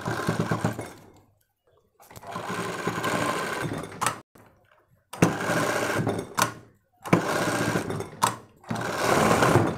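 A sewing machine stitches a bra belt in four rapid, whirring runs separated by short silences and clicks, each burst starting and stopping abruptly.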